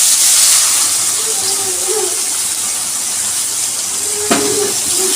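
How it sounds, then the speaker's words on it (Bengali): Soaked chopped onions fry in oil for a hilsa fish biryani, giving a loud steady hiss with a brief clink and faint tonal sounds partway through. "জলে রাখা পেঁয়াজ কুচিগুলো ভালো করে ভেজে নেব।"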